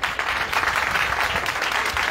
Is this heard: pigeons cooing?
no